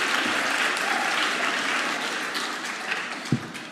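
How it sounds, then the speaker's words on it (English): An audience at a speech competition claps in a dense, steady round of applause that fills the room, holding strong throughout with a slight fade near the end, no speech over it. "Can we get one more round of applause for Mr. Mike, please?"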